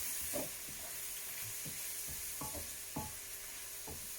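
Beef mince for a samosa filling sizzles steadily in a pan, a constant hiss broken by several soft stirring scrapes at irregular intervals.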